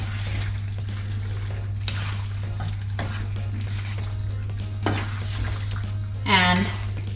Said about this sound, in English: after transferring the pasta, we'll just mix it nicely